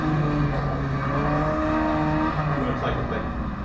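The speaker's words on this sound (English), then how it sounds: "Put the power on and the car comes around" A car at a motorkhana event revs hard with a steady, droning engine note that rises and shifts as it turns, loud and close, while someone talks over it.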